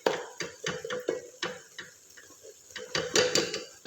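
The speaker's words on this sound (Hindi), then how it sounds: "अब आपने इसको हिलाते रहना है।" A spoon scrapes and taps against a pan while lauki halwa with coconut milk powder is stirred, an irregular run of soft knocks and clinks up close.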